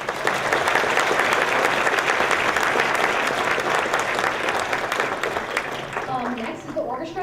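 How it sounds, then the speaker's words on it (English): A concert audience claps loudly and steadily in a dense wave of applause, with some voices mixed in, before the clapping thins and fades toward the end. "give her a huge round of applause"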